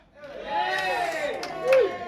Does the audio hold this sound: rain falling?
no